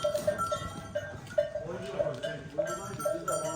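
Young goats and sheep crowd together in a truck, with repeated bleats breaking through a steady clatter of movement and a bell-like tone, while people talk nearby.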